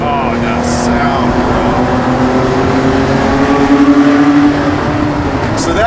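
A Porsche 964 engine revs high to about 6,000 RPM and holds a steady, rising tone, loud and close, with a brief whoosh near the start and end.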